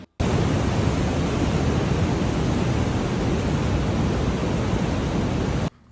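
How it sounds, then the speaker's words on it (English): Loud waterfall water rushes as a steady, dense roar of broadband noise, close and unbroken for nearly six seconds, then cut off sharply. "The noise of the water was so loud that Kim and I literally had to scream at each other just to hear"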